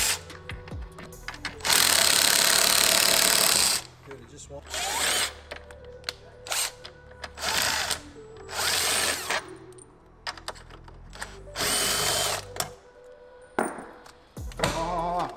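Power drill removing hex bolts from a McLaren 720S dashboard, heard in several close, loud bursts with ratcheting mechanical whir, separated by short pauses and faint background noise.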